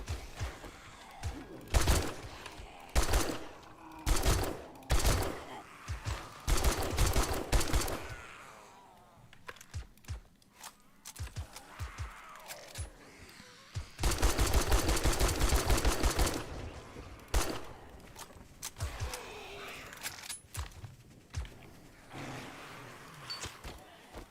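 Bursts of rapid gunfire while shooting enemies on a custom-built video game map, clusters of repeated shots with heavier sustained volleys midway, interspersed with quieter gaps and occasional talk.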